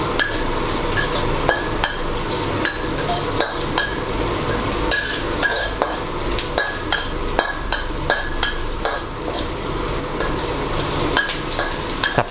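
Onion stir-fried in a pan for a sweet-and-sour sea bass dish, with garlic already in the oil: a steady, loud sizzle runs throughout, broken by regular scraping and clinks of a utensil stirring against the pan.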